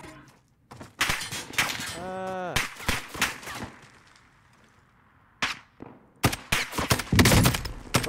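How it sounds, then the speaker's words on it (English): Scattered bursts of gunfire in the video game Warzone, with sharp cracks and short volleys arriving in clusters between quieter gaps, alongside excited talking and shouting voices. "Stop shooting at me."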